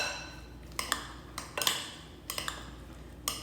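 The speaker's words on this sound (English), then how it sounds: "Going to stir that all together." A metal utensil stirs pepper into wet batter ingredients in a bowl, making a quiet series of sharp clinks and scrapes against the side at an irregular rhythm, close up with no talking.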